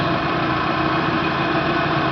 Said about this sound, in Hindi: हमारी गाड़ी अभी स्टार्ट है।